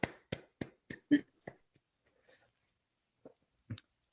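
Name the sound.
round of applause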